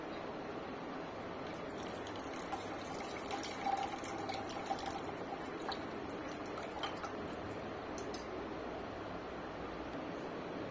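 Tamarind water is poured into a simmering sprouted-bean curry with a faint, steady liquid trickle and hiss, distant and low in level throughout.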